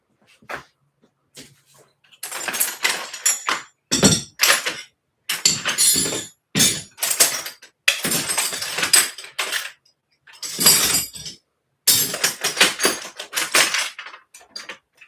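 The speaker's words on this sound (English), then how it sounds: "I know you guys love it when I dig through my tools" Metal hand tools, including small wrenches, rattle and clink in repeated bursts as someone rummages through a tool pile while working on an S-5 rim, close and fairly loud with short pauses between handfuls.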